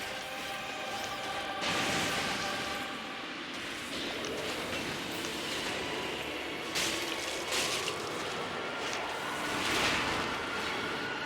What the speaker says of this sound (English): What you're hearing is the screaming of pilgrim butterflies.